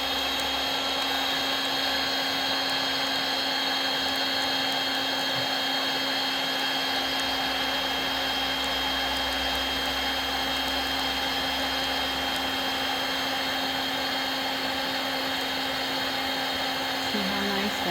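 A heat gun blows with a steady, even whirring hum for the whole stretch, shrinking heat shrink tubing over a wire splice, with no breaks in the sound.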